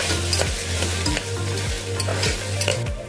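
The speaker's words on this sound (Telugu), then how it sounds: "ఇది అల్లం వెల్లుల్లి పేస్ట్లోకి పచ్చివాసన అంతా పోయినంత వరకు బాగా ఫ్రై చేసుకోవాలి" Ginger garlic paste fries in a pan for veg pulao, a steady close sizzle broken by rhythmic scraping strokes of a spoon stirring about twice a second, with no talking.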